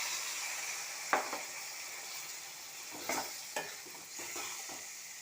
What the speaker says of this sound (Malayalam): എന്നിട്ട് നന്നായിട്ട് ഇളക്കി യോജിപ്പിക്കുക